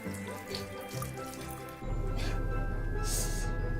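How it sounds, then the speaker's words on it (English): A household tap left running, water streaming steadily and loudly into a sink after a brief quieter start, filling the clip alone. "Kevin, did you forget to turn the water off again?"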